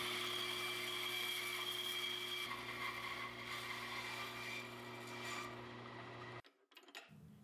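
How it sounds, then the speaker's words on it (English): Bandsaw trimming a wood blank for an elk call, a steady motor whine with a cutting hum that runs continuously, then the saw stops abruptly and winds down near the end. "I use my bandsaw again to square up the blanks"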